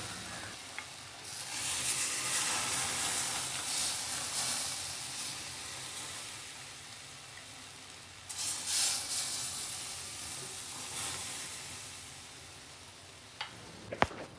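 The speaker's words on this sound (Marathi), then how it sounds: "तवा छान गरम झालाय। तर आता हे डोस्याचं पीठ खालपासून व्यवस्थित मिक्स करून घ्यायचंय आणि नंतर गॅसची फ्लेम कमीच ठेवायची आणि अशा पद्धतीने डोसा टाकून घ्यायचाय तव्यावर।" Wheat flour dosa batter sizzles on a hot tawa over a low flame: a continuous close hiss that swells twice as batter spreads, ending with a couple of light utensil taps.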